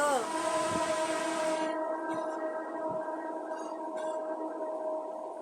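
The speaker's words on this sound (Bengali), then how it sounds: "ট্রেন যাইতেছে এখান দিয়ে। ট্রেনের কি শব্দ!" A train rumbles past nearby with a loud sustained horn blast at the start, then a steady rolling drone with faint clanks.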